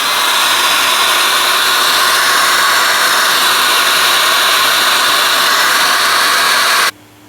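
A heat gun shrinks heat-shrink tubing over the wiring plugs of Oxford heated grips on a Suzuki GSX-S1000. A loud, steady, close blowing roar runs for about seven seconds and then cuts off abruptly.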